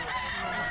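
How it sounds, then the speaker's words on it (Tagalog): Chickens and roosters at a busy pet market in Bocaue, a dense, continuous layer of crowing and clucking birds heard close and loud, with no pause in the din. "Ano naman itong mga manok ito?"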